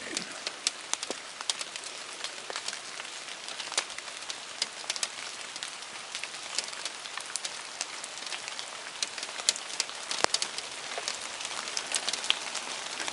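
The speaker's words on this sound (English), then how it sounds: "I love rain." Steady rain falls in a forest, a dense, even patter of drops on leaves and ground with scattered sharper drips, continuous throughout at a moderate level with no voices.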